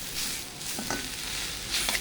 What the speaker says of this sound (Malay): Okey, so kita goreng daun ubi tumbuk